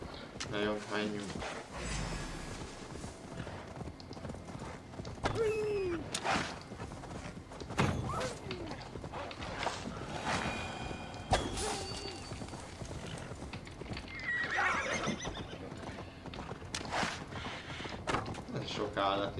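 Horse hooves clip-clop in Assassin's Creed Valhalla, a steady near trot with occasional whinnies, heard under ongoing talk and game dialogue amid scattered thuds.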